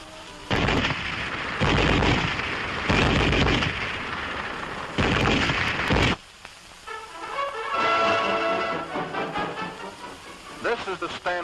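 German MG-34 7.92mm machine gun firing in several long, loud sustained bursts with brief gaps, followed by someone speaking over quieter background noise.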